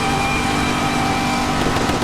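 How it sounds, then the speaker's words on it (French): A Camaro engine runs steadily with a high-pitched supercharger whine layered over it, loud and continuous, in the Roblox game Bayview County. "On entend le petit superchargeur."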